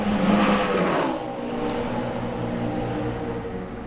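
A NASCAR Sprint Cup Ford race car on a qualifying lap at Texas, near 194 mph into turn 1: a loud, steady high-pitched engine roar that swells at first, then holds a sustained drone.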